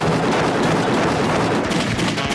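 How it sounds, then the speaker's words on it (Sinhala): Dense, continuous burst of rapid cartoon gunfire from a Sinhala animated comedy, loud and unbroken for a couple of seconds with no talk over it. "අපිට තව තව මෙහෙම වෙඩි තියා ගන්න පුළුවා"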